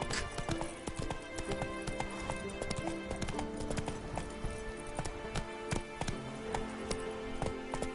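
Horse hooves clip-clop in a quick, steady trot while riding in The Witcher 3, crisp and close, with faint game ambience behind and no clear speech.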